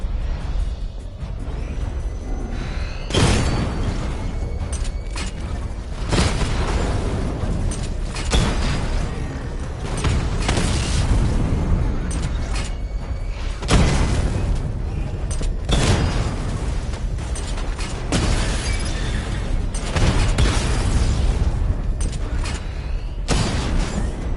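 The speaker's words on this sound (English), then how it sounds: "Charge up missile barrage to level 2 and destroy 4 active targets to complete diagnostic test." Repeated heavy booms from a missile barrage in Batman: Arkham Knight, loud bursts recurring every few seconds over a constant dense rumble of game action.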